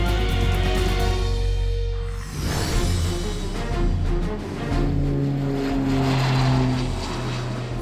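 An Aeromedevac medical transport airplane's engine drones loudly and steadily without a break, with a deep, even propeller hum filling the whole stretch.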